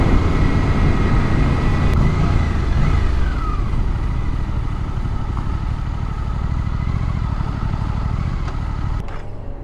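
A 2024 Suzuki GSX-8R motorcycle engine accelerates hard and steadily, its tone rising loud and close through quick-shifter gear changes with brief pauses, with no voices.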